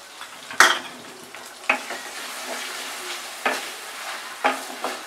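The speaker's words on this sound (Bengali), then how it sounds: "টেবিলস্পুন আদা বাটা দিলাম" Ginger paste sizzling in a pan for spicy Bengali aloo dum, a soft steady frying hiss punctuated by four or five sharp spatula clacks against the pan, close and without speech.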